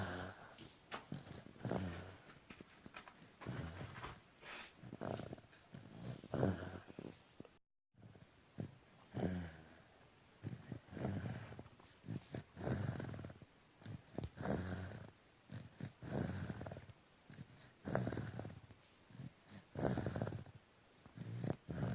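A baby girl of a few months snores softly and close, with rhythmic, raspy breaths repeating every second or two in a quiet room, faint and steady throughout.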